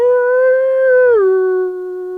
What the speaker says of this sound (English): without warning, they began to howl again.